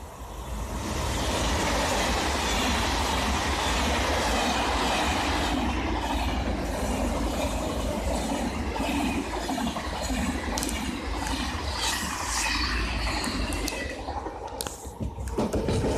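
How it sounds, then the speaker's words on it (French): A French TGV high-speed train roars loudly and continuously through a station near Saint-Denis, a dense broadband rush with rattling wheel clatter that eases slightly toward the end. "c'est un TGV"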